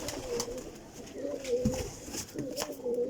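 Pigeons cooing close by, several repeated soft throaty coos in a rolling rhythm over faint background noise and a murmuring voice.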